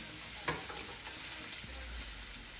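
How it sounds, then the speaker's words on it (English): Pork chops browning in hot oil in a pan for Sunday gravy, a soft steady sizzle with a few brief crackles and pops, fairly quiet and close. "So, oil's in the pan. I'm only browning the sides here"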